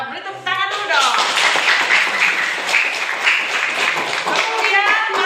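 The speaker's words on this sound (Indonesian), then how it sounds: "Beri tepuk tangan dulu dong" A classroom of students claps together in a dense burst of applause that fills the room for several seconds, following brief chatter at the start.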